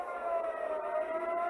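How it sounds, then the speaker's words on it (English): An emergency alert system siren wails steadily and loudly, a continuous sustained tone resembling an ambulance siren, heard alone without any talking. "Sounds like 5 ambulances inside my house."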